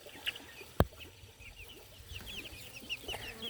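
Chickens, including a Silkie, clucking softly near the camera around a homemade feeder, with scattered faint calls, a sharp knock early on and a low background rumble.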